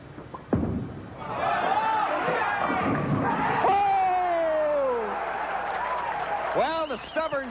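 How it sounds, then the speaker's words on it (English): Crowd applause and cheering at a 1987 PBA senior pro doubles bowling match, honoring bowler Dick Weber, rising loud after a thud and running under a commentator's voice throughout. "there you see the applause from the great one, Dick Weber"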